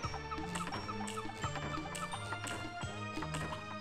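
A bird clucks repeatedly in the WarioWorld video game, with short, rhythmic bursts mixed into busy game music and sound effects.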